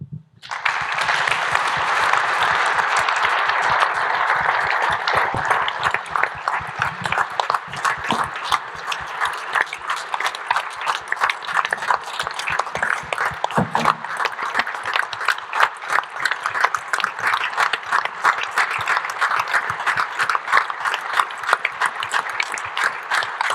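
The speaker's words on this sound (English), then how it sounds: "As we applaud Jerry and his wife Priscilla" An audience at an association's 50th anniversary celebration gives sustained, dense applause, rising quickly and continuing strongly for over twenty seconds with a steady crackle of many hands.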